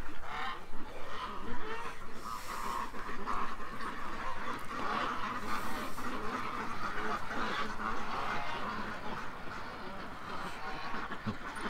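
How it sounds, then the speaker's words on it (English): Ducks quack and honk steadily as evening lock-up nears, a dense, overlapping chorus of several birds at close range for the whole stretch, with only faint traces of a voice. "I'm trying to find my little ducks, my little babies."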